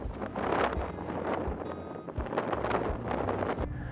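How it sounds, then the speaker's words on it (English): Strong gusty wind buffets the microphone steadily, a continuous low rumbling roar with no voices. "It's very windy today."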